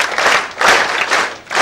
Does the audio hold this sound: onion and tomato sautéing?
no